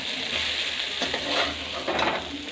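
Stuffed okra (bhindi) frying in a pan gives a steady close sizzle, broken by a few scraping stirs as the pieces are turned over, with no talking.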